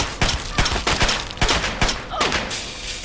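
Rapid bursts of gunfire in Fallout 3, several loud, sharp volleys spaced through the fight, with one fainter shot trailing at the end.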